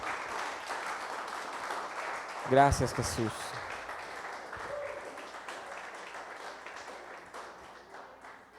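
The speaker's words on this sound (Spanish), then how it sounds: "Denle un fuerte aplauso a Dios" Church congregation applauding during a service, moderate clapping under a brief spoken voice near the middle, thinning and softening toward the end.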